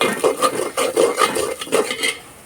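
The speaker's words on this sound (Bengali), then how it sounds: "দেখেন গোটা জিরাটা একটু নাড়তে হবে" Whole cumin seeds stirred in hot oil in a cooking pan, a spoon scraping and clinking against the metal in a quick run of repeated strokes, close up with no voices.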